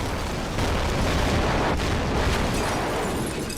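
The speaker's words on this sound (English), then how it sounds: "My car got destroyed." Car crash in the racing video game Need For Speed Hot Pursuit Remastered on PS5, a dense, loud continuous roar of impact and grinding noise lasting several seconds with no talk.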